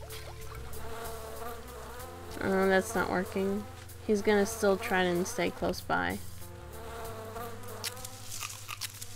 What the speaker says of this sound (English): Maybe I could put bees on him.